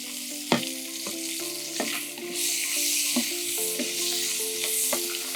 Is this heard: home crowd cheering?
no